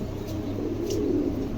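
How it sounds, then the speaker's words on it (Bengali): Large house pigeons cooing softly in low, throaty murmurs, a steady burble with no talk over it. "দেখেন হাউস পিজন দেখেন, বিশাল আকারে হাউস পিজন"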